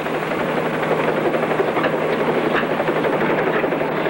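A helicopter in flight, its engine and rotor giving a loud, steady, broadband roar that holds evenly throughout with no voices.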